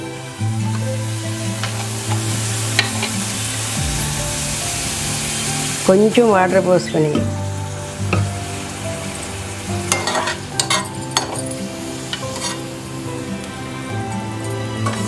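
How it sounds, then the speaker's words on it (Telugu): Cabbage frying with salt in hot oil for a homemade pickle, a loud continuous sizzle with a sudden burst of spattering midway and irregular stirring scrapes and clinks against the pan, close by. "వేయించి తీసేసిన నూనెలోనే క్యాబేజీ వేసుకుని కొంచెం ఉప్పు వేసుకోవాలి."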